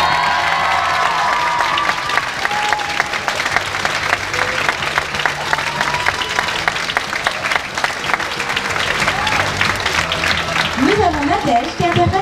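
A crowd at a cosplay parade applauds steadily and loudly throughout, dense clapping with some cheering and voices mixed in, ending with a rising whoop or call.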